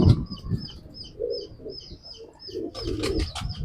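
A pigeon of an old preserved breed coos softly in a low, repeated burbling pattern, close by, with small birds chirping faintly in the background and a brief rustle near the end.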